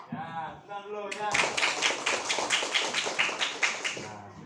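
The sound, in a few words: children clapping hands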